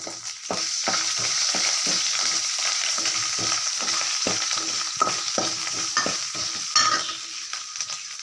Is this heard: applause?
no